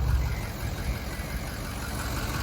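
A 6.0 diesel truck with an aftermarket exhaust idles nearby, a steady low rumble with slight knocking throughout and no talking.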